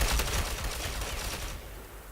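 Gunfire aimed at the player in the shooter game Ghost Recon Phantoms, a quick dense burst of cracking shots up front that fades into a softer rattling wash within two seconds.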